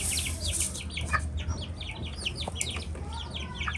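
Chickens, a hen and rooster in a backyard coop, cluck and chirp in short overlapping calls throughout, close and fairly busy over a steady low background hum.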